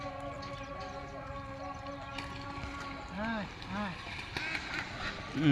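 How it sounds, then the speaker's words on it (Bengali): Ducks on a farm pond quack in short nasal bursts, several calls from a few birds at moderate distance, over outdoor background noise with voices in the scene. "না উঠে আবার ওই প্রান্তে চলে যাচ্ছে হাঁসগুলি।"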